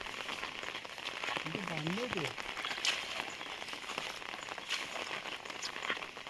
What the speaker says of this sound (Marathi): पाऊस पण मस्त पडतोय